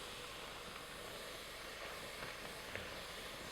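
Beans stirred in a pan over the highest heat give off a steady, even sizzling hiss, faint and continuous, with a few small scraping ticks under it.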